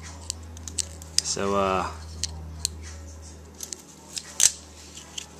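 A Jeep 4.0 rear main seal is cut in half with one short, squeaky snipping stroke, surrounded by small clicks and handling taps, with a brief spoken word nearby.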